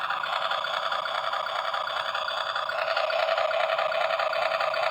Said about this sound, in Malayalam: ഇതിൻ്റെ എൻജിൻ സൗണ്ട് കേട്ടോ?